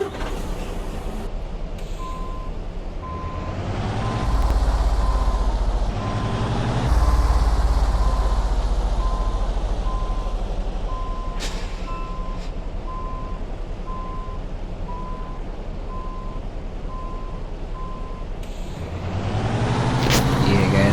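Freightliner truck engine in a truck driving game, a loud steady diesel drone near redline, with a repeating reversing-style beep running through most of it and brief surges in engine load.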